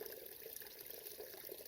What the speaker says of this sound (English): Here's a stream.